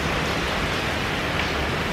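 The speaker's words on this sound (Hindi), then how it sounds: "Low, have some more rain vibes." Steady rain pours outside, a dense, even hiss of falling water with no distinct drops standing out, continuous and fairly loud throughout with no voices.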